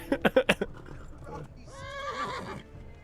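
Horse in the video game Kingdom Come: Deliverance: a quick run of four sharp hoof clops up close, then a long wavering whinny rising and falling.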